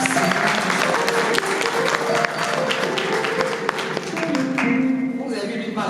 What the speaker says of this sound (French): Je vous demande d'applaudir Bakary qui va animer aussi.